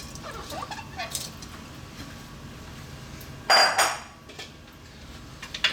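Drained, soaked rice dropped into chicken broth in a pot for kabsa, a short loud splashing pour near the microphone amid quieter clinks of the pot and utensils.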